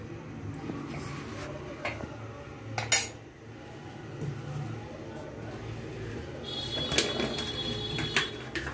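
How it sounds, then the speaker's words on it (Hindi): A metal pot is set down to heat in a home kitchen while sweet saunth chutney is made, giving a few sharp metallic clinks over faint, steady background noise. "मैंने यहाँ पे एक बर्तन रख दिया है गर्म होने के लिए"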